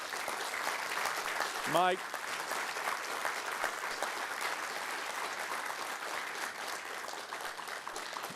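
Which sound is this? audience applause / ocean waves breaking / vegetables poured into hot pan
audience applause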